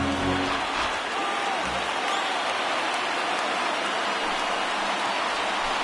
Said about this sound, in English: all those fans cheering